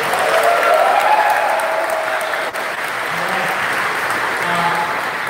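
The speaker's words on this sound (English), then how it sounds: "Let's give them another round of applause." Audience applause at a charity event, sustained clapping from a large crowd that stays steady and full, with faint voices beneath it.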